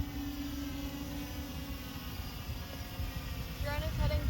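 Motors of an autonomous search-and-rescue drone spin up for takeoff, a steady electric hum that climbs into a rising whine near the end, with a voice speaking over it.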